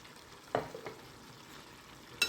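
A spoon stirs masala paste into a cauliflower and chana dal curry in a pan. A few faint scrapes come over a soft, steady sizzle, quiet and close, with no talking.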